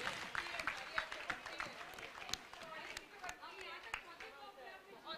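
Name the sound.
audience applause for a race participant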